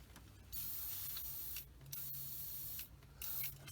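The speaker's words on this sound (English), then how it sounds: "for this paint job I'm going to use my Neo for Iwata TRN1" An Iwata Neo TRN1 double-action airbrush sprays paint at 15 psi onto a model kit in three soft hissing bursts separated by short pauses, fairly quiet and close.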